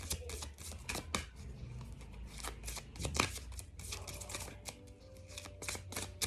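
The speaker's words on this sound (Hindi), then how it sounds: "एक कार्ड लूंगी इस डेक से मैं, आपके लिए गाइडेंस क्या आ रही है।" A tarot card deck being shuffled by hand: quick, close crisp riffling and flicking bursts in a steady run, with a faint low hum beneath and no talk.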